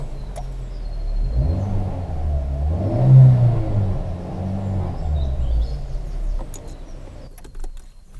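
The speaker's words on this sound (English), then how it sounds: "I'll give it a rev" A car engine revs up once from idle, swelling to a peak and settling back down, moderately loud and close with no voices.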